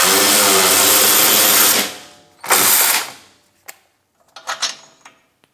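An electric ratchet spins a wheel hub bolt out of a Chevrolet Colorado or GMC Canyon during a hub and bearing replacement, with a long loud whir, a second short burst, then scattered metallic clicks and clinks.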